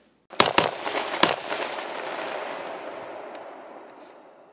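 Three quick loud AR rifle shots fired through a Rise Armament RA 701 muzzle brake crack out close together outdoors, followed by a long rolling echo that slowly fades.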